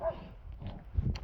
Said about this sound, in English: another dog, probably a little one. Ah, yeah, little fella yapping away.